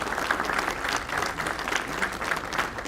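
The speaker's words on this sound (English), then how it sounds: "Let's applaud you." An audience of resellers at a company event applauds, a steady, even patter of many hands at moderate volume, continuous with no voices standing out.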